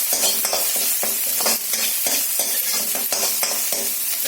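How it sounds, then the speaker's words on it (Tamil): Chopped curry leaves sizzle loudly as they are fried and stirred with crispy potato in a tawa, a constant hiss broken by rhythmic scraping strokes of the spatula, close and without any speech. "ஒரு 2 to 3 நிமிஷம் இந்த மாதிரி கறி லீவ்ஸ் போட்டு நல்லா ஃப்ரை பண்ணுங்க"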